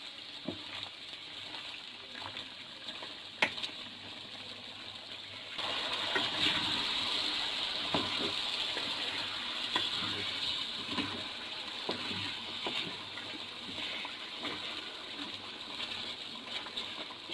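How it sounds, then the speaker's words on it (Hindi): Water pours steadily into a simmering pot of chicken nihari for several seconds, a continuous gushing hiss over the faint sizzle of the cooking pot. "तो अब हम इसमें पानी ऐड करेंगे।"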